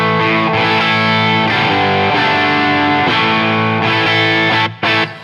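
Electric guitar played through a 1968 Marshall Plexi amplifier with no pedal, giving loud, crunchy overdriven chords that ring steadily for several seconds before a short break near the end.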